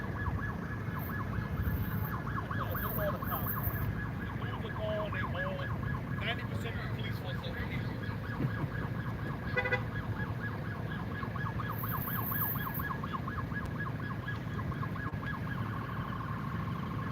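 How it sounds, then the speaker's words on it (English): Ambulance sirens wail continuously at a mall during an active shooter response, steady wavering tones over a dense wash of traffic and crowd noise, with faint voices underneath throughout. "I hate the thought of non-stop ambulances."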